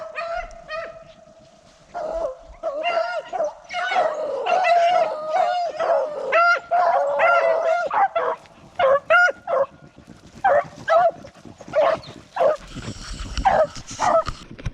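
Several beagles bay and yelp excitedly on a rabbit trail in a loud, overlapping chorus, with bursts of howling that grow choppier toward the end.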